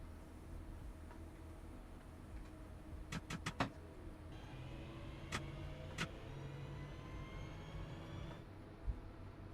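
A train picking up speed in the video game Train Sim Classic, with a low steady engine rumble and rising tonal whine, some sharp clicks partway through, and a quiet, even level throughout without talk.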